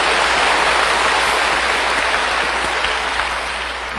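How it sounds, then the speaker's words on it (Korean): A church congregation applauds together during a sermon on the cross, a dense and steady wash of clapping hands that fills the room, loud and sustained, easing slightly near the end, with no voices over it. "예수님 십자가 바라보고 박수를 한번 치십시오."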